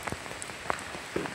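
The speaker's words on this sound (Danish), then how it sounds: "Ja, der er godt nok meget regn." Rain falls at Gottskär harbour during a sailing trip, a quiet, even patter with scattered individual drops tapping on a nearby surface.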